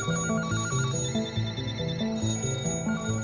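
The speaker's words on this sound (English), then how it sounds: "everyone else's phones in New York started ringing." Telephones ring in New York, giving repeated bell-like trills over a dense, steady bed of sound with no voices.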